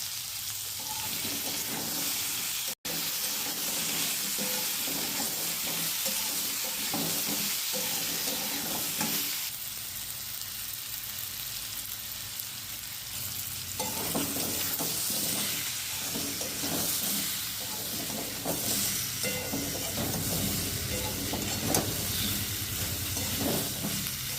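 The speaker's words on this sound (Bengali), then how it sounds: "আলুটাকে ভালো করে ভাজা ভাজা করে নেবো" Oil sizzling steadily as potatoes fry with ginger, tomato and green chilli paste, with occasional stirring scrapes, a brief cut near the start, and a shift in the frying texture midway.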